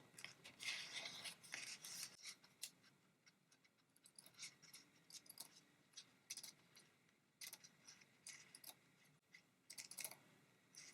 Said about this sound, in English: I'm just going to cut these strips a little bit smaller on here.